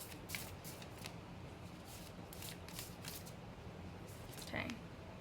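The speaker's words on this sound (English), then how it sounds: "I'm gonna keep shuffling" Tarot cards being shuffled by hand, soft quiet riffling and slapping of the deck in irregular bursts, close and gentle in a calm room.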